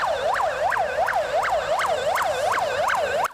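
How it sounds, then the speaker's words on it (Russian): A fire alarm siren sounds in one of the largest shopping centres in Yakutsk during a fire drill. It is a loud, continuous rising-and-falling wail that repeats about three times a second, with no voices over it. "В одном из самых крупных торговых центров Якутска сработала пожарная тревога"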